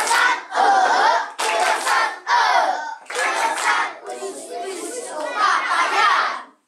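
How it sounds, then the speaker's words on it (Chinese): Children at a rural elementary school in Fuxing, Taoyuan clap out an Indigenous-style rhythmic cheer in unison, loud bursts in repeated phrases with shouted voices mixed in. "我们会不会那个原住民的掌声"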